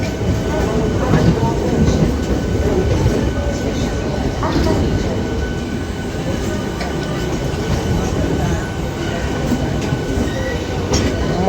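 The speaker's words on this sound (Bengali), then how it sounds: "Malda Howrah intercity express via Rampurhat." Malda Howrah Intercity Express train via Rampurhat, a loud continuous rumble of a passing express with rolling wheel noise and rattling cars heard up close, a voice talking faintly beneath.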